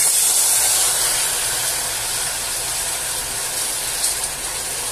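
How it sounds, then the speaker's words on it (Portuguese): Steam hisses steadily as water is poured into hot caramel for pudding. The hiss is loud and sustained, fading slowly over several seconds, and no one speaks. "E com muito cuidado, gente, assim do lado, ó, porque vaza muito vapor."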